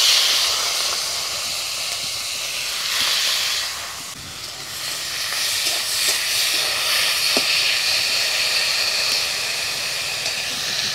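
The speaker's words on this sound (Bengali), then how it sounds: "কড়াইয়ের মধ্যে কিছুটা তেল দিয়ে চিংড়ি মাছগুলোকে ভেজে নেব।" Prawns fry in oil in a wok with a loud, continuous sizzling hiss that rises and falls slightly, alone with no voices.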